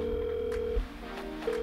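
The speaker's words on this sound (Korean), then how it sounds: "아람의 소속사한테 전화 좀 해야 되겠다" A telephone ringback tone sounds as a call is placed, with two steady electronic tone bursts separated by a short pause, clear and close with no talking.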